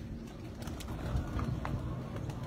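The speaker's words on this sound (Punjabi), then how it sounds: "ਇਸ ਖੁੱਡੇ ਦੇ ਵਿੱਚ ਆ ਜਿਹੜੇ ਕਬੂਤਰ" Breeder pigeons coo softly in a coop, their low rolling calls repeating close by against faint background noise.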